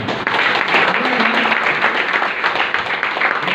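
An audience claps at a motivational leadership meeting, a fairly loud, continuous patter of many hands with a slight murmur of voices mixed in, holding steady for a few seconds.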